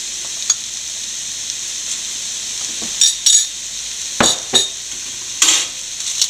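Jackfruit seeds sautéing in a pan give off a steady, close sizzle, and a spoon scrapes and stirs through them in several short bursts. No one speaks.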